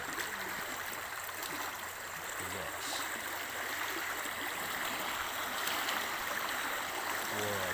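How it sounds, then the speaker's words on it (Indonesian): Tidal water rushes into a fish trap as the tide rises, a steady broadband roar of flowing water that goes on unbroken for several seconds with no voices. "Semakin deras airnya, air pasangnya."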